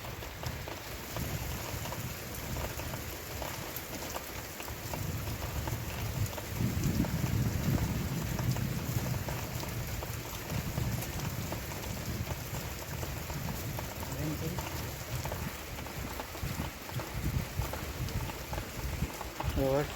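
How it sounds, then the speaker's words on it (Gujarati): Steady rain falls without a break, a dense patter that swells briefly in the middle, with a low rumble and what may be some talk underneath. "જો વરસાદ જો રહેતો નથી, જે ચાલુ જ છે"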